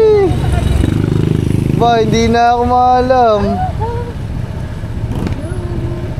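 A big motorcycle riding along, its engine a steady low rumble with a brief rising whine, while people talk and call out over it.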